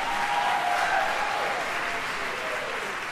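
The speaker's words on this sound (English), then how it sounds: "Clap, cheer, applaud." Steady, dense applause from a concert audience at a chorus performance, a continuous wash of many hands clapping at even loudness throughout, with faint voices mixed in.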